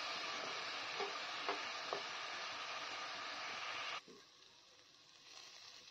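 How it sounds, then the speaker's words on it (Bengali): Potatoes being sautéed with turmeric, salt and spices in a pan, made alongside prawns and broccoli, with a steady close sizzle and a few stirring scrapes that drops to a quieter hiss partway through. "মশলার সঙ্গে আলুটাকে বেশ সুন্দর কষিয়ে নিচ্ছি।"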